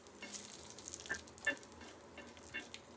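Dry red chillies hitting hot oil in a pan for an okra bharta, a soft continuous sizzle with a few light stirring clicks, faint and close.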